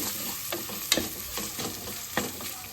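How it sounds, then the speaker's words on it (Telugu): Onions and curry leaves fry in hot oil for a mutton brinjal curry, a steady close sizzle broken by a few soft scraping stirs of a spoon in the pan. "ఇప్పుడు కరివేపాకు ఉల్లిగడ్డ కట్ చేసి పెట్టుకుని వేసుకోవాలి ఉల్లిగడ్డలు కూడా మంచిగా పచ్చివాసన పోయేంత వరకు మంచిగా వేయించుకోవాలి"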